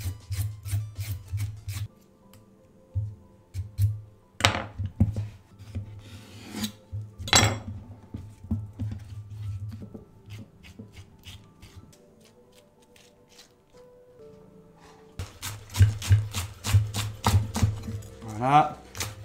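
A knife slices a cucumber in half and scrapes out its seeds for a vegetarian Thai salad, giving short rasping scrapes and cuts in bursts, with a person talking over much of it.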